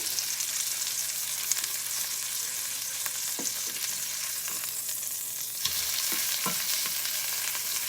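Bacon-wrapped Columbia River salmon sizzling steadily in a hot pan right after being flipped, a dense, even frying hiss with a few small pops and crackles, close and continuous.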